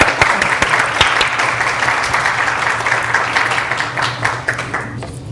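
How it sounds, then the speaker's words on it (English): Audience applause welcoming a speaker at a professional conference on substance use disorders, a full, continuous clapping from a room of people that holds steady and then gradually tapers off near the end. "Please join us with a round of applause"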